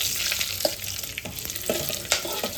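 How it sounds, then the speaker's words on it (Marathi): Ground masala roasting in a hot pan for Kolhapuri white rassa, a steady crackling sizzle with a few sharper clicks of stirring, close by and fairly loud, no voices. "भाजून घेऊ मसाला."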